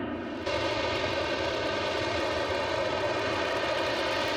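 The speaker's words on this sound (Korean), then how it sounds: "미 공군, 해군, 해병대가 함께 사용할 수 있도록 개발된 F-35의 가장 큰 특징은 수직이 착륙이 가능하다는 것이다" An F-35 fighter jet flies by, its single engine producing a loud, steady, droning roar with a whining tonal edge that kicks in abruptly and then holds constant throughout.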